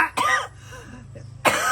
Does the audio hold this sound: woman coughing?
yes